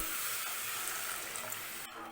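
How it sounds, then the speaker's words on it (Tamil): Water pours into a pressure cooker of sautéed vegetables for vermicelli pulao, giving a soft, continuous hiss and sizzle, faint and even throughout. "இப்போ நம்ம தண்ணி ஊற்றலாம்"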